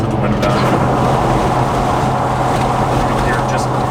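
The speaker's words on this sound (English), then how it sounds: "you can definitely hear the tires howling" Goodyear Duratrac off-road tires howling on pavement as a truck drives, a loud steady drone with a sustained tonal hum under broadband road and wind noise, with talking over it.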